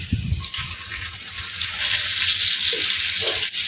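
A steady, close sizzling hiss of a Mughlai paratha frying in a hot pan over medium heat, with a few soft clinks and scrapes early on.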